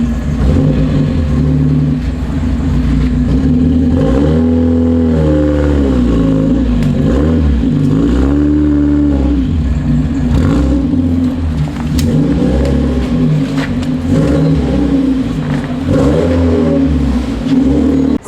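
Mazda Miata engine idling and revving in short rising and falling bursts as the car is driven slowly into a paint booth, loud and close with no talking.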